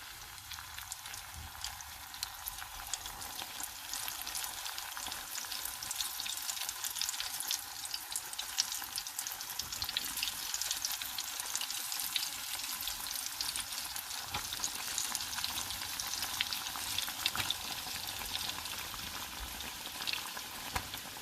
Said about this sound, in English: It's gonna be deep fried.